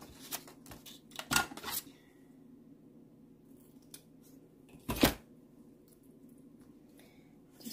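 Scissors cutting paper for a fall junk journal cover, heard as a few close, crisp snips and rustles separated by quiet pauses.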